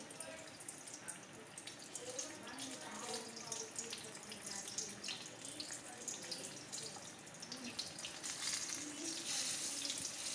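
Eggplant pakoras coated in gram flour batter fry in hot oil, giving a steady, quiet hiss and crackle throughout, close by with faint talk.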